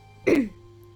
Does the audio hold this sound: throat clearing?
yes